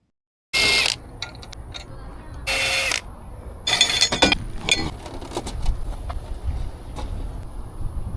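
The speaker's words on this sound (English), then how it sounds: "Next, remove the bracing using a 16mm socket" A power tool fitted with a 16mm socket spins out bracing bolts under a 2017-era-or-later BMW G30 540i with a B58 engine, giving short loud whirring bursts followed by metallic clinks and rattles of loosened hardware.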